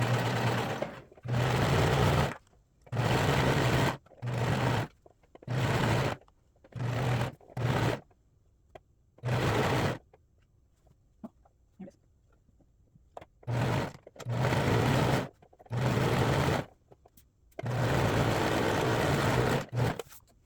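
A sewing machine stitches the side seam of a sweater in a series of short and longer bursts of rapid whirring, separated by quiet pauses with faint handling clicks.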